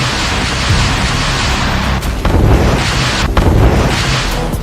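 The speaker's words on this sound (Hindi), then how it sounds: "MLRS टीम ने गुलियापोल के कई इलाकों में विध्वंसक प्रहार किया और यूक्रेनियों के मजबूत गढ़ों को ध्वस्त कर दिया।" Rocket artillery strikes from an MLRS unit on Ukrainian positions near Huliaipole, heard as a continuous loud roar of blasts and rumbling booms with sharp bursts cutting through, with no voices.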